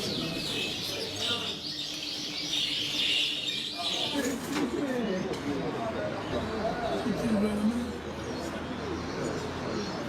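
Goldfinches bred in captivity sing in their cages at a judged bird competition, bright high chirps and trills coming in bursts over a murmuring crowd, with a voice talking through part of it.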